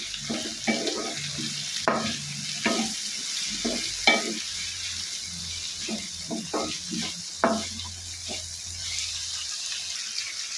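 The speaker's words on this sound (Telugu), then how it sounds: "ఉల్లిపాయ పచ్చిమిర్చి ముక్కలు వేసేసుకోవాలి దాంతో పాటు ముక్కలు కూడా వేసేసుకోవాలి వేసేసుకొని కలుపుకోవాలి" Onion, green chilli and drumstick pieces being stirred in a pan with cumin for a drumstick cashew curry, a low sizzle under intermittent spoon scrapes and clatters, close by with no talking.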